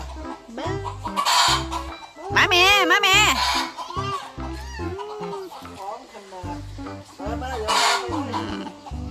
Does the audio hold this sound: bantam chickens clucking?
yes